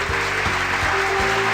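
A studio audience gives loud, steady applause for actor Henry Soto, with a few louder rhythmic thumps under the dense clapping and nothing else over it.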